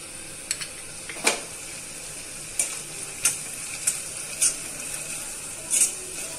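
Onions softening in a pan for pav bhaji with ginger garlic paste, a low steady sizzle broken by sharp scraping clicks of a spoon stirring at irregular intervals, fairly quiet and close.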